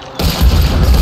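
An explosive barrel blows up in Hunt: Showdown, giving a loud, close, sudden boom that swells into a heavy low rumble and fades over a second.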